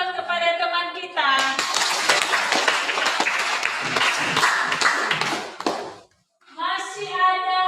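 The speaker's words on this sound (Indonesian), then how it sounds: "berikan aplaus kepada teman kita" A classroom audience claps for a classmate in a sustained burst of dense, lively applause lasting several seconds, with voices talking just before and after.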